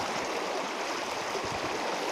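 Strongly flowing stream water rushes as a dense, steady roar, close and loud throughout with no voices.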